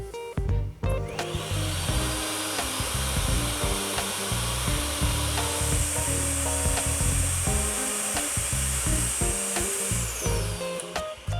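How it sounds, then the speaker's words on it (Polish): A household vacuum cleaner runs steadily from an Andes 1500 portable power station, a loud, continuous motor roar with a high steady whine that holds for the whole stretch. "odkurzacz domowy"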